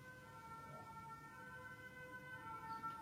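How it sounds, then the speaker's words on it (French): A fire engine siren passes outside, heard indoors as a faint, steady, distant wail beneath a quiet room hum. "Les pompiers sont passés."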